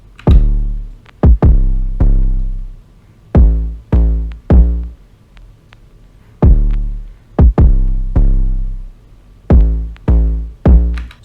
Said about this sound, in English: The 808 and the kick together sound like this.